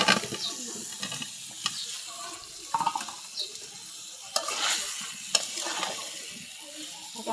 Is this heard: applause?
no